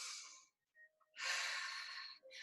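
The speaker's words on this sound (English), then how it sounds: "take a deep breath" A deep breath drawn during a wall-exercise fitness class: a short airy breath, a pause, then a longer, fuller intake lasting about a second, close and clear with no talking.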